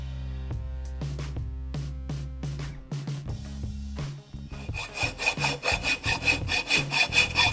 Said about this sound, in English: I'm just filing it out so that the fit is as snug as I can get it